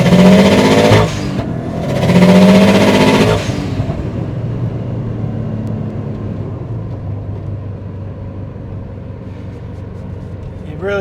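A 2005 Subaru STi with IAG coilovers pulls hard at full throttle in second gear, its engine roaring loud and close for about three seconds, cutting briefly and rising again before settling into a steady cruising drone.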